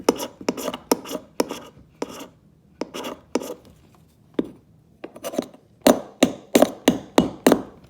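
A metal blade scrapes repeatedly across a magnesium fire starter block, giving close, sharp rasping strokes in quick bursts with brief pauses between groups, and no voice.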